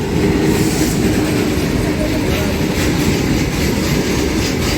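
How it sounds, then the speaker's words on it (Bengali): A long-distance passenger train hauled by two engines passes close by on a line near the NH34 highway in Murshidabad, giving a steady, loud rumble with clattering wheels throughout and no talking. "দুটো ইঞ্জিন আছে, অনেক অনেক লম্বা রুটের ট্রেন হয়তো সম্ভবত"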